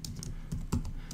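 Typing on a computer keyboard, entering a location into a search box: a quick run of light, irregular keystroke clicks lasting about a second, close and fairly quiet.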